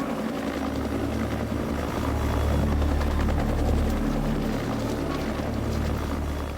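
Helicopter waiting at an Antarctic dinosaur fossil dig site, its rotor and engine giving a steady, loud, continuous thrumming drone that swells slightly midway.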